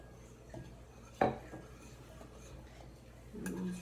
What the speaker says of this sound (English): I'm using a whisk to make sure that I have no lumps in here.